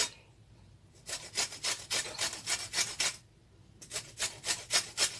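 An apple is grated by hand for an apple cake, giving a steady series of rhythmic rasping strokes, two bursts separated by a short pause, close and fairly loud with no talking.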